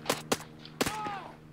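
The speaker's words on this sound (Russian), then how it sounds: "Стрельба." Gunfire in the military shooter Arma 3: a few sharp shots in quick succession, moderately loud against a low background, with a brief whistling tail after the last shot.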